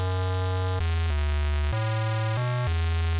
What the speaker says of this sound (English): Right, and I've loaded in a square wave in oscillator B,